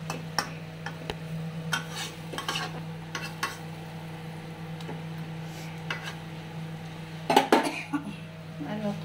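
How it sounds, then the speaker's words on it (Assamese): Pointed gourd curry frying in a pan on a gas stove, with a steady low burner hum, repeated clinks and scrapes of a utensil stirring against the metal, and a louder clatter near the end. "ধুনীয়াকে ফ্ৰাই হৈছে ন"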